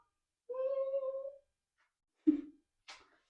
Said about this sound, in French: Oh, il y a mon chat, attendez.